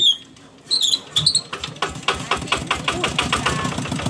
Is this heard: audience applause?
no